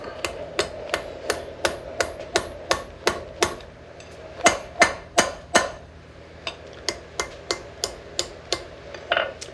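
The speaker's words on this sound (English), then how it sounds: "I'm going to take water and cool that very tip so that I can strike it with the hammer without deforming it." Steel hammer striking the cooled tip of a hook on an anvil during blacksmith forging, a steady run of about two dozen sharp ringing blows at a brisk even rhythm, close and loud with no talk.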